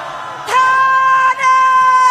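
A large crowd at a Seoul flag rally shouts together in one sustained roar, a loud unified voiced yell that dips briefly and swells again.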